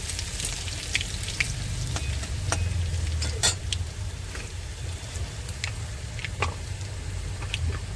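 Chopped garlic sizzles steadily in hot oil in a pan, a dense close frying hiss broken by sharp ticks and scrapes as it is stirred, with no voices.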